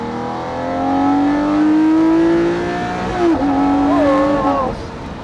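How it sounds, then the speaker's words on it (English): A Lamborghini Murcielago LP640 Roadster V12 engine climbs hard through the revs, shifts, then pulls again with a rising howl, loud and close. "that is, I think, the best sounding Lamborghini ever made. Incredible sound."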